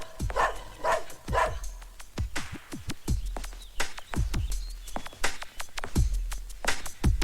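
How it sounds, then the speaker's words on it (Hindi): A dog barks indoors in a series of sharp, fairly close barks and yips. The barks come in irregular bursts with short gaps between them. "ये रोमियो क्यों भौंक रहा है? घर में कोई दूसरा कुत्ता आया है?"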